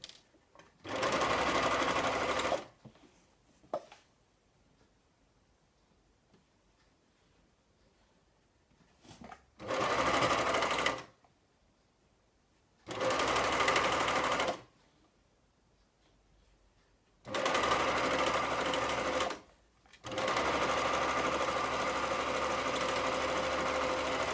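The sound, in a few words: serger (overlock machine) sewing and trimming fabric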